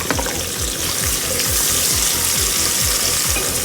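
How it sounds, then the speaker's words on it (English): Onions sizzle in hot oil at the start of a gizzard stew, a loud, close, continuous frying hiss with a regular scraping rhythm from stirring and no talking. "So at this point, I'll put my onions in my oil."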